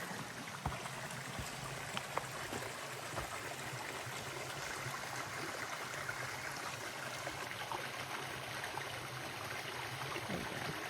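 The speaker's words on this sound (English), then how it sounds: "you can actually hear the creek" A creek flows with a small waterfall cascade along a wooded hollow trail, giving a steady, faint wash of running water that stays even throughout, without any voices.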